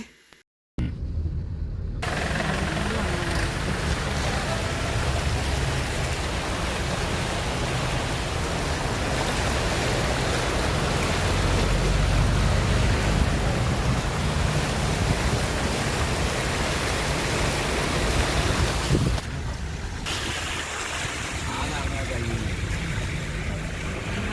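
Floodwater rushing over a road in Nilambur during rain roars steadily and loudly for the whole stretch, a dense continuous flow with no pauses.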